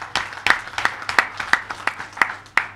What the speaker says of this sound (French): Je vous demande vraiment de vous applaudir